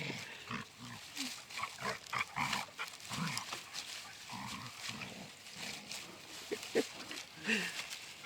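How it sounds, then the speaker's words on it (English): Dogs fight on a small farm, their growls, snarls and yelps coming in rough, overlapping bursts from a moderate distance. The scuffle stays fairly quiet throughout. "And we're having a terrible dog fight here."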